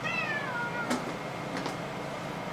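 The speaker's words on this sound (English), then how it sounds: "the cat is shaking the camera" A cat meows close to the camera, giving one drawn-out call at the start, then faint rustling and handling noises as it moves against the camera.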